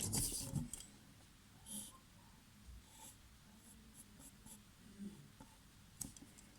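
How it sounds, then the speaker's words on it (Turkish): A pencil drawing a snowman on paper makes soft, steady scratching strokes close by, with a few louder handling knocks and brief pauses between strokes. "İlk öncelikle bir kardan adam çiziyorum."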